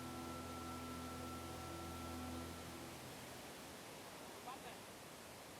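Waterfall in a rural Dao community area, a steady broadband rush of falling water, very faint and distant, with brief murmured talk and a low hum early on.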